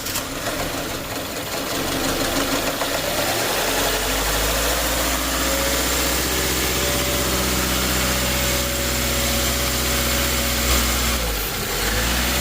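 A Subaru 2.5L engine, just given new spark plugs, idler, tensioner and belts, cranks and settles into a steady, loud idle that runs on alone with a low, even drone.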